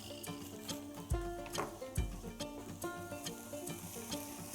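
Crispy pieces of lamb with spring onions tossed and stirred in a pan, sizzling steadily with several sharp knocks and scrapes of the pan through a few quick tosses, close and moderately loud.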